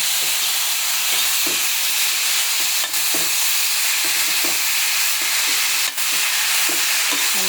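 A spoon stirs lentil bori frying in a pan of hot oil, a continuous close sizzle broken by irregular scraping clicks and taps against the pan.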